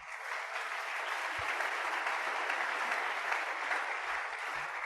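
A church congregation breaks into sustained, even applause during a prayer service, a dense wash of clapping that holds steady throughout without voices rising above it.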